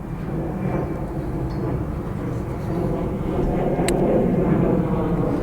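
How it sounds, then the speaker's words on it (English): A U-2 spy plane passes high overhead outdoors on a golf course, producing a broad, steady jet rumble that swells slightly louder over several seconds. "These are all U-2 spy planes. They're not commercial jets."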